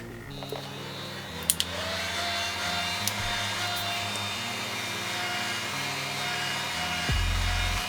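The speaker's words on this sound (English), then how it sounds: "I'll use my hand fan here" A handheld fan blowing to dry concealer, giving a steady, even whir close to the microphone that runs throughout, with a few small clicks and a low thump near the end.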